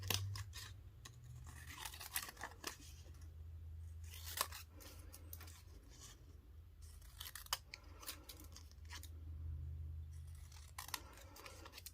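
Scissors snip through paper while trimming a handmade file folder journal, giving a run of short, crisp cuts in small uneven bursts over a low, steady hum.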